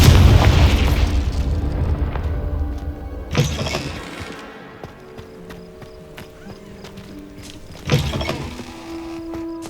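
A Confringo fire spell bursts in Hogwarts Legacy with a loud opening boom and rumble, followed by two sharper blasts a few seconds apart, close and alone with no talk.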